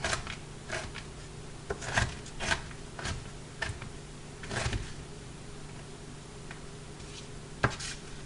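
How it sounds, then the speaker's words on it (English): A knife chopping food on a cutting board in a home kitchen, with sparse, irregular sharp taps, a few louder knocks and quieter ones between, close by, with no talking. "And chop her up."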